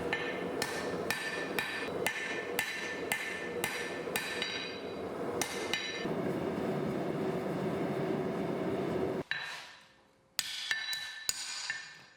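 A hammer forges steel to taper the handle of a San Mai EDC knife, ringing out in a series of sharp, closely spaced blows over a constant background hum, then a few final strikes after a brief lull.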